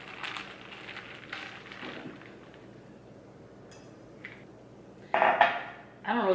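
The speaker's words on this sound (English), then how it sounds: "let me stir" A spoon clinks against a cup while stirring espresso and vanilla creamer, light soft scraping first, then a few bright louder clinks near the end, close and intimate.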